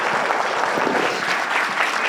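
Audience applause fills a hall at the NSLS National Summit, a dense, steady wash of many hands clapping at an even, loud level for a couple of seconds with no voices over it.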